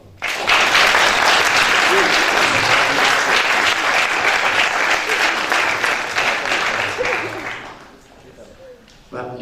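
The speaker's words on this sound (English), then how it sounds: "please give ladies and gentlemen, a big round of applause" A large audience at an International Echoes event in Prague breaks into loud, sustained applause for an arriving speaker. The clapping fades out near the end.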